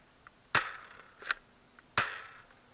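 Nerf Dual-Strike blaster firing foam darts in Elite mode: two sharp, close pops about a second and a half apart, each with a short airy tail, and a smaller click-like burst between them.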